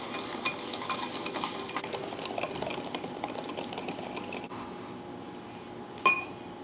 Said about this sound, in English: Now we have to mix it until it's light in color and it is creamy and fluffy.